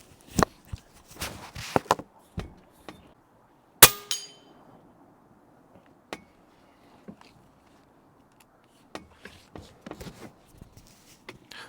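A Pinty Striker PCP .22 air rifle fires at full pressure with the microphone at the muzzle, several sharp snappy shots and clanking pellet impacts on a target at 50 yards, spread across an otherwise quiet stretch.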